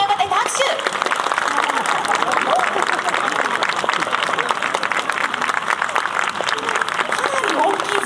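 Crowd clapping for the mascot Rin-chan at a 2018 Hiroshima Toyo Carp vs Chiba Lotte Marines baseball game, a sustained wash of stadium applause mixed with chatter and cheers, steady and loud throughout.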